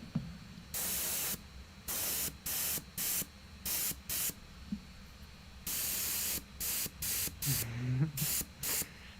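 Air compressor feeding an airbrush while painting Warhammer 40k Centurion miniatures, with repeated short hissing spray bursts in an irregular on-off rhythm, close and steady, over a faint background hum.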